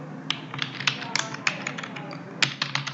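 Keys tapped on a computer keyboard while writing Java code, a quick irregular run of clicky strokes with short pauses, close and fairly quiet over a faint room hum.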